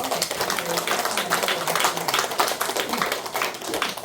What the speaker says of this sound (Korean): 큰 박수를 한번 보내주면서